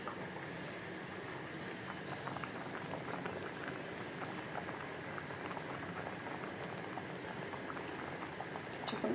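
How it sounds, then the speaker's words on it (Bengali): Soaked chickpeas boiling with potatoes in a pot, a soft continuous bubbling and pattering simmer, fairly faint and steady throughout with no voices. "ভিজিয়ে রেখেছিলাম এই বুটগুলো আলু দিয়ে সেদ্ধ করা হচ্ছে।"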